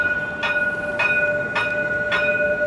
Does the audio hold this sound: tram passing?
yes